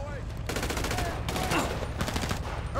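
Sustained automatic gunfire from Trevor in a video game desert trailer-park firefight, with loud, rapid bursts running almost without pause under dense game noise.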